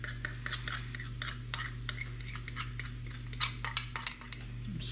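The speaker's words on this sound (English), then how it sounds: "I'm gonna go ahead and take the bottom bun and just load it up with this hot sauce mix that we made" Hot sauce mix is spread across a brioche bun with quick, light scraping and tapping strokes from a utensil, steady and close over a low background hum.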